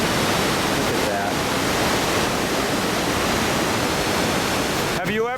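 A waterfall at Pagosa Hot Springs roars as a loud, steady, broadband rush of falling water, close and unbroken, with faint voices in the background.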